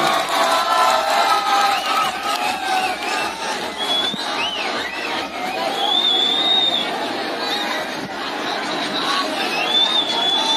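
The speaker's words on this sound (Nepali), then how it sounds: "एकदम जोरदार ताली छ" A loud crowd at a live song concert cheers and claps, with shrill whistles rising above the continuous roar and shouting voices mixed throughout.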